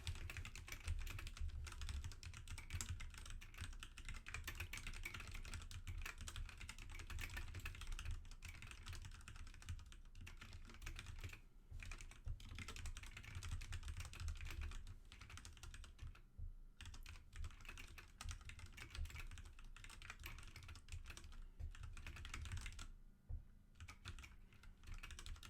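Steady typing on a computer keyboard, a dense run of soft key clicks that continues almost without pause, with only a few short gaps, close and fairly quiet with no talking.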